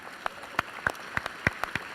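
A few scattered, polite golf claps from an audience at a futurist talk, sparse isolated hand claps spaced unevenly over a quiet room, faint and close.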